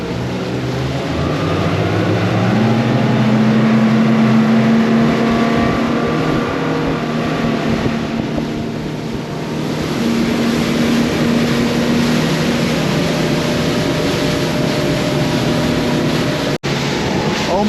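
A motorboat running on plane on the way to Islamorada, with a loud, continuous engine roar and rushing water and wind. The engine note rises and falls a little across the run.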